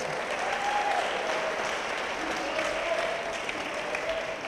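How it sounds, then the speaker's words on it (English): Sustained audience applause fills a welcome-home event for an Olympic medalist, steady dense clapping throughout with faint crowd voices mixed in, no clear speech on top. "Give her a big round of applause."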